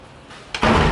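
A door in a Jamaican holiday villa is shut, a sudden loud thud and slam about halfway through, followed by a sustained rush of room noise.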